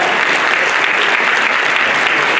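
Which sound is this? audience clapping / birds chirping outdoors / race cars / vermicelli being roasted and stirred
audience clapping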